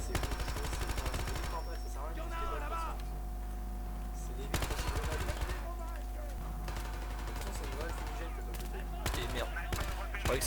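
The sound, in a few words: gunfire in video game Battlefield Hardline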